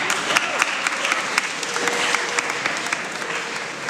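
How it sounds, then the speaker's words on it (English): An audience at an elections forum bursting into applause, a steady, fairly loud wash of many hands clapping close by for a few seconds. "give yourself a round of applause"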